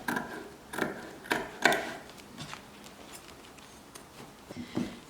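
Scissors snipping through grow bag fabric along a seam, a series of close, crisp clicking cuts in an irregular rhythm, fairly soft and heard alone.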